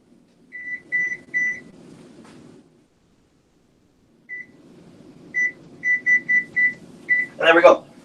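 Oven timer beeping as it is set in a home kitchen, a string of short, even electronic beeps in two bursts separated by a pause, with faint rustling beneath and a brief clatter at the end.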